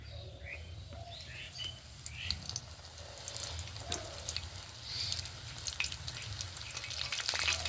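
Snacks frying in oil in a wok, a steady bubbling sizzle running throughout with a few chirps over it, close and fairly even in loudness.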